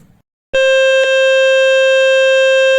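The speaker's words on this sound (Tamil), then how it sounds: "அந்த பகுதியை டச் பண்ணிங்கனாலே ஆட்டோமேட்டிக்காக பீப் சவுண்டு கேட்கும்" Steady electronic beep tone from a Fix My Speaker speaker-cleaning website on a mobile phone, starting abruptly and holding loud and unbroken with a brief click partway through.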